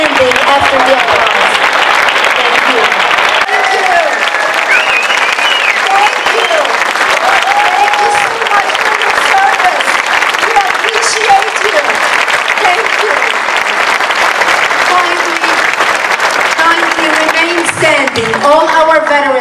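A large audience at a Cleveland, Ohio speaking event applauds veterans in sustained, loud clapping mixed with crowd noise for nearly twenty seconds, with voices faintly audible beneath it.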